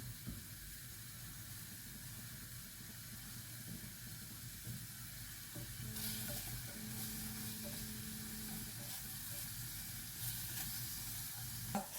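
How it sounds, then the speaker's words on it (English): Onion sweats in a pan with a faint, steady sizzle and hiss, quiet and even throughout, with a few soft stirring touches. "I just want to sweat this onion down"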